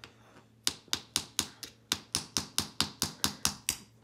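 A toy hammer taps a jumbo toy dinosaur egg in a run of about fourteen crisp, evenly spaced knocks, close and fairly loud, with no talking over it.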